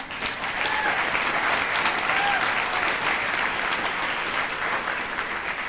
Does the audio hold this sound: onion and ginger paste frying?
no